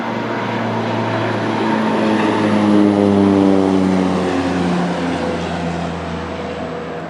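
A low-flying propeller airplane passes about 100 feet above a woodland tree line, heard from a deer-hunting spot. Its loud, steady droning hum fills the whole stretch, swelling slightly mid-pass with no talking.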